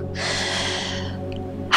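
One long, deep breath during a yoga flow, a steady airy exhale lasting over a second, close and clear, ending in a sharper intake at the end.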